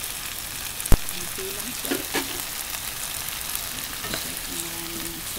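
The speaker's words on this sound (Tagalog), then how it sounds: "Masimmer na yung pusit." Squid simmering and sizzling in a pan, seasoned with salt and black pepper, gives a steady close frying hiss with a few sharp clinks and scrapes. A brief spoken phrase is heard.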